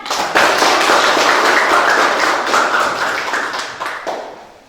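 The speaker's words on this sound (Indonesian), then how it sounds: "Kita berikan tepuk tangan." A classroom of students claps for the best group, a dense, fairly loud round of hand claps with sharp individual slaps that tapers off near the end.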